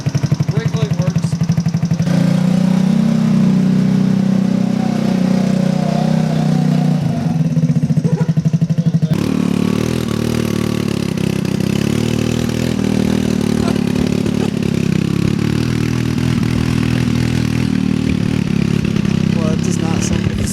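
A wrecked go-kart engine, restarted after five years, sputters and runs roughly with uneven chugging and clattering. The sound is loud and close, with brief shifts in pitch, and people talk over it.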